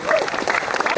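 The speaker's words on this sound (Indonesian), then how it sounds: "kita berikan tepuk tangan yang meriah" Applause from the audience at a police award ceremony, where a district police unit receives an honor for handling a child kidnapping case. The clapping is dense and steady for a short burst, with a voice speaking over it.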